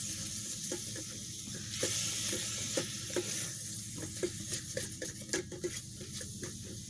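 Kielbasa sizzles and fries in a stainless steel Instant Pot pan with Worcestershire sauce added, a steady close hiss broken by clinks and scraping of a utensil stirring and working the bottom of the pan.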